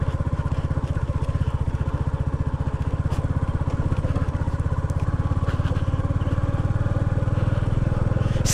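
A Royal Enfield Bullet motorcycle climbs an off-road hill track near a waterfall, its thumping single-cylinder engine loud, close and steady throughout with a rapid, even pulse.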